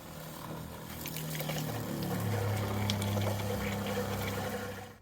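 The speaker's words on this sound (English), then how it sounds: "I'm going to turn my pump on either here in the water cabinet" An RV water pump runs during winterization of a San Juan Vans camper van, giving a steady low motor hum with a watery, trickling wash over it, close and continuous, fading out at the end.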